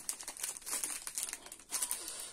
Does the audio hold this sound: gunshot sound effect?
no